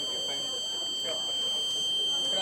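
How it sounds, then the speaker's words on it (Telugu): A greenhouse monitoring system's electronic buzzer sounds as a steady high-pitched tone under a voice, continuous throughout with faint background hum. "టెంపరేచర్ ఎక్కువ ఉందా సాయిల్ తక్కువ ఉందా అనేది తెలియడానికి బజార్ యూజ్ చేస్తాం సౌండ్ కోసం"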